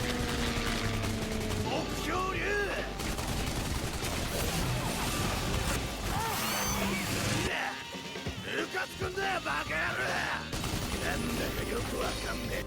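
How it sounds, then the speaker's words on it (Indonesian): Gunfire in an anime fight scene from Drifters, where a dragon is shot, comes as dense overlapping bursts of shots and impacts amid loud soundtrack effects, briefly dropping away before resuming. "Untung saja Kano datang tepat waktu dan menembak naga itu."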